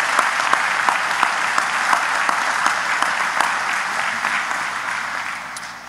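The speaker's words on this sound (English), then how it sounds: "give them a round of applause one more time" An audience at a graduation ceremony claps steadily and loudly for several seconds, a dense crowd applause that slowly tapers toward the end.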